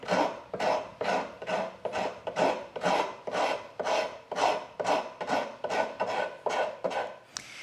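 A woodworking rasp is pushed across wood in a steady run of about fifteen rhythmic rasping strokes, each a coarse scraping burst, close and fairly quiet, with no voices.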